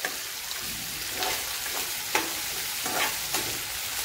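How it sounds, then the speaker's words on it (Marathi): Onions fry on a high gas flame in a pan with a loud, steady sizzle. A spoon stirs them at intervals, giving a few brief scraping accents. "म्हणजे लवकर होईल कांदा आपल्या भाजून। आणि मोठ्या गॅसवर भाजून घेते मी।"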